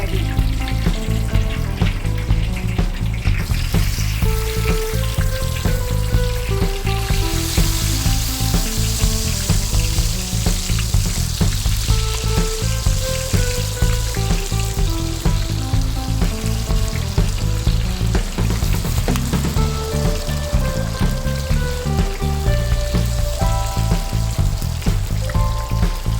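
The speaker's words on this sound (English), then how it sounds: "Now the bitter gourd is frying." Slices of bitter gourd frying in hot oil for spiced fried bitter gourd, a dense continuous sizzle with steady crackling and bubbling close up, no talking.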